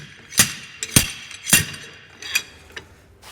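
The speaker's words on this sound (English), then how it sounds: "if you don't have one of these silver slappers, slide hammers, it saves you so much time" A slide hammer pulls an axle shaft from a Dana 44 axle with a leaking wheel seal, giving three sharp metallic impacts about half a second apart, then two lighter knocks, with no talking.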